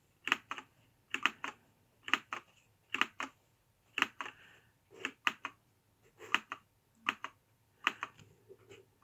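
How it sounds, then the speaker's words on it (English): Clicky mechanical keys on a Freewrite distraction-free writing device being typed on in quick bursts of keystrokes separated by short pauses, close and crisp, with no voices. "Some people put dampers underneath each key. They don't like the clicking."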